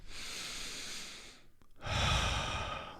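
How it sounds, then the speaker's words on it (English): Deep breathing in and out during a calm focus exercise: a long, soft airy inhale, a brief pause, then a fuller, louder breath out, close and alone with no talk. "when I breathe in"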